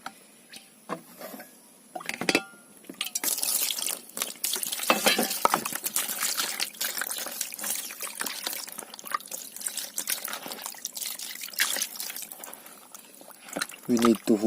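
Fish being washed by hand in water for a Filipino tinola dish, with continuous splashing, sloshing and dripping close up, broken by short pauses and a few sharper knocks near the end.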